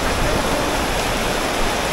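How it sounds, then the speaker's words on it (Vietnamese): Heavy rain pours down over a market in Nha Trang, a loud, steady, dense hiss of water with no break, close and unbroken throughout. "Tiếp mưa rất to"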